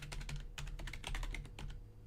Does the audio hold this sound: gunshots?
no